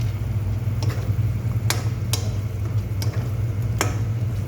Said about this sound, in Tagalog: Nagigisa na ako ng chicken. Ayan, sinasangkot ko na guys.